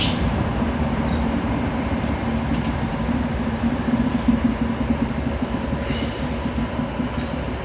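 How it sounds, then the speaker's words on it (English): Class 390 Pendolino train passing through Carlisle station, a loud, steady rumbling roar of wheels and carriages with faint rhythmic rail clatter, continuous and close for the whole stretch. "And there's the Pendolino."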